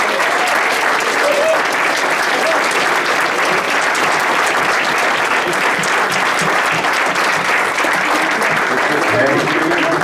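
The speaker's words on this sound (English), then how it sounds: "Please give them a round of applause." A dense, sustained round of applause fills a volunteer and patron reception hall, many hands clapping loudly and evenly throughout the whole span with no pause.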